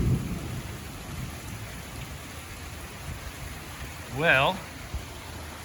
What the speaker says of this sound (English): I guess I'm gonna wait this storm out under this bridge